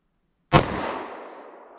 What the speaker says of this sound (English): All right, I made a shot.